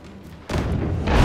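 A deep, heavy boom of cannon fire in the pirate ship game Abandon Ship hits midway, followed by sustained rumbling and another low blast, loud with no speech.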